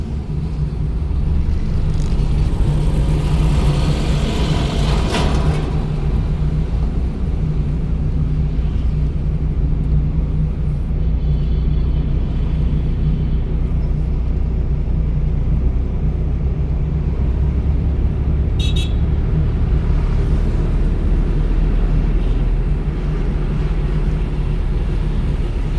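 A pickup truck engine revs hard as a dense, loud, continuous low rumble that holds steady throughout, with no voices.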